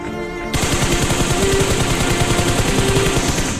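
Sustained automatic gunfire in a squad-based battle royale shooter, rapid bursts of shots hammering without pause, loud and close, with no talking over it.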